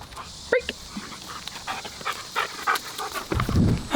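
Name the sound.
dog panting at a park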